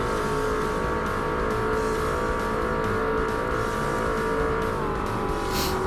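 Production-class race car in Forza Motorsport on its final lap of an endurance race, engine holding a loud, steady high-revving drone with a slight pitch dip near the end, alone without talk.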